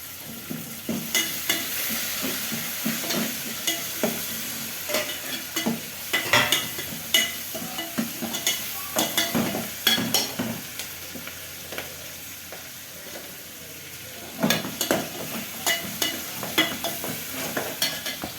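Onions with curry leaves, mint and coriander sautéing in a pan for mushroom biryani: a soft continuous sizzle broken by repeated scraping stir strokes, bunched in bursts, with no voices.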